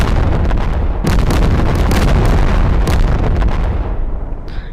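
Heavy bombing explosions in the video game Animal Company, a continuous loud rumble of blasts and booms with sharp bursts around the one and three second marks, fading slightly at the end.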